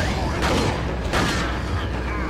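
Heavy weapon fire in Resident Evil 4, two loud booming blasts about half a second apart over dense game noise and mechanical rumble.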